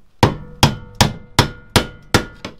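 A hammer drives a chisel against a VW T5 van body panel, producing seven sharp, evenly spaced metallic strikes with ringing tails, close and loud with no talking.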